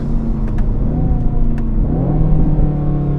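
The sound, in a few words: Aston Martin Vantage engine revving and accelerating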